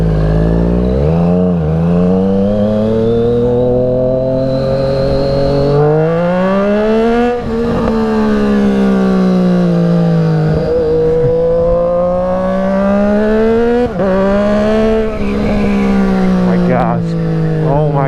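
A Triumph Street Triple RS motorcycle rides through city streets, its engine revving up and down in rising and falling sweeps, loud and close, with a voice speaking over it at times.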